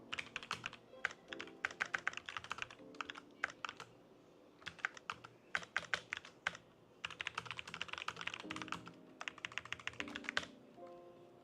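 Keyboard typing run through Clack sound software gives crisp, clacky keystrokes in quick bursts with short pauses between them. The sound is close and fairly quiet, with no talking.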